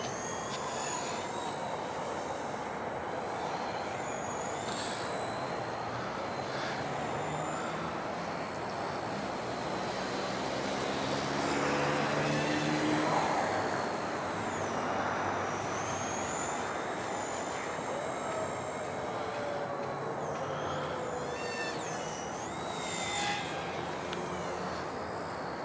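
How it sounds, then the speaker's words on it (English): A small airplane drones steadily through aerobatic manoeuvres, its engine note rising and falling in pitch as it climbs, rolls and dives, heard from inside the aircraft at a moderate level with no talk. "I want to be doing at least some of the acrobatic stuff I can do with the airplane."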